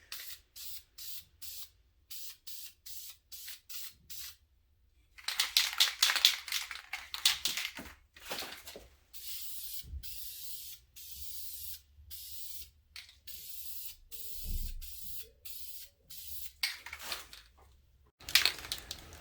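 Khaki spray paint hisses from a can onto a Hawk Helium Stick for a camouflage coat, mostly in many short regular bursts with a few longer sustained sprays and brief silent gaps.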